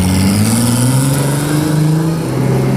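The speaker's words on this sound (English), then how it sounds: "roll the car carefully out into the street and go straight to wide open throttle" A drag-built car engine is floored to wide open throttle from a roll into the street. It gives a loud, sustained, close rev that climbs steadily in pitch, with no talk over it.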